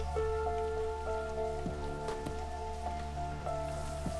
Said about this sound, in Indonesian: Kalau hujan tak berhenti-henti macam ni, boleh masuk rumah.